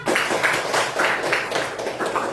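Schoolchildren in a classroom clap together for a classmate in a loose, rhythmic beat of repeated bursts, moderately loud and fairly close.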